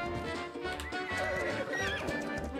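A horse in the video game ARK neighs loudly and close, a wavering whinny over clip-clopping hooves and game sound.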